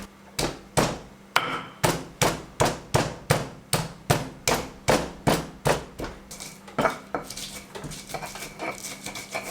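Spice paste for chicken plecing is pounded in a mortar, giving about twenty sharp, regular knocks at close range that turn softer and more scattered toward the end, with no voices.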